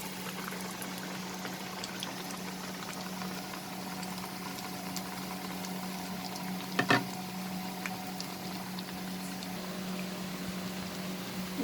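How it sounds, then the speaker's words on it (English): Brinjal fritters fry in hot oil, a continuous soft sizzle and bubbling, fairly faint and steady, with one brief clatter partway through. "Now we will fry this till it becomes nice and golden in color."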